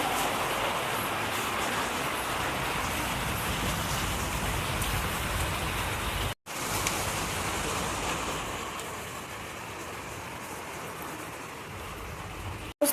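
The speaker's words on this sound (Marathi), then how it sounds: "आज खूप पाऊस येत आहे." Heavy monsoon rain pours steadily outside a rented house, a dense, unbroken hiss with a brief cut in the middle, loud and close, with no voices.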